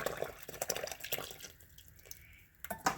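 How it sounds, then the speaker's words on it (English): Yeast and milk mixture poured into a well in flour for homemade cinnamon roll dough, a soft close liquid splash and trickle with small drips over about three seconds, no talking. "Okay, then we're going to pour in the yeast and milk mixture."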